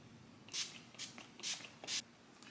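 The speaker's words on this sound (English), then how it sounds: "I'm gonna do some setting spray and then we're good." Makeup setting spray goes on in four short, soft hissing bursts, evenly spaced about half a second apart, close but quiet.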